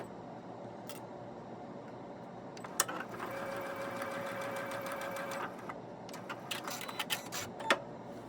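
A sewing machine stitching a quarter-inch seam at a short 1.8 stitch length, a steady close whirring run of a few seconds, with faint clicks and handling sounds before and after.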